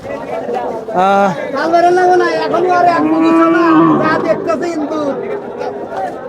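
Friesian cattle moo at a busy livestock market, with a long loud low moo near the start and further lowing calls over steady crowd chatter and voices talking.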